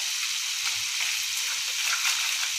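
Turmeric and salt hiss in a frying pan while matar paneer is cooked, a steady, close bright sizzle with faint low clinks of stirring underneath.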